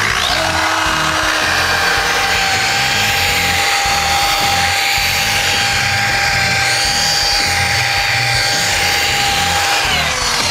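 Flex 3401 rotary buffer polishing car paint on a vertical panel, a steady continuous machine whir with a sustained tonal hum and low rumble, close and loud throughout with no talking.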